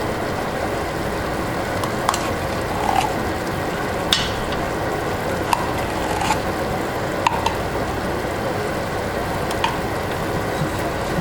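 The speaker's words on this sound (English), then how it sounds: "And just stir it in." Tomato paste being stirred into browning beef in a pot for Haitian beef stew, a steady sizzle running throughout with faint scraping clicks of the spoon at irregular intervals.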